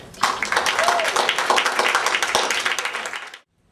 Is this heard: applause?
yes